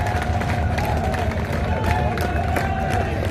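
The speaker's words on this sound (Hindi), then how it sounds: "सारे लोग एक बार हाथ उठाकर तालियां बजा दीजिए" A large crowd at a political rally claps and cheers in a dense, continuous wash, with voices mixed into the noise.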